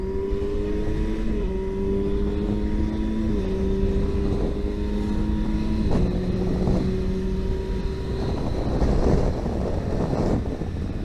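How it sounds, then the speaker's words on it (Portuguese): A 2020 Kawasaki Versys 1000 GT motorcycle upshifts through its gears with the quick shifter while riding, each shift a quick drop in the engine note before it climbs again, heard several times under steady wind noise, without speech. "Só para demonstrar o Quick Shifter."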